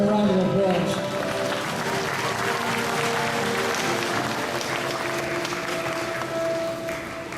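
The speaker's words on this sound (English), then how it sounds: "Let's give them a round of applause." An audience at a SeaWorld San Antonio bird show applauds, a dense wash of clapping from the crowd that holds steady for several seconds while a voice talks over it.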